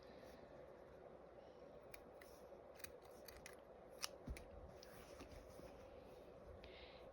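Scissors cut yarn while finishing a crochet item: soft, quiet snips and small clicks over faint room hiss, one slightly louder cut near the middle.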